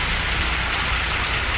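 Heavy rain pours down during a cold-season storm in Pakistan, a dense, loud, unbroken hiss of drops striking surfaces with no voices over it.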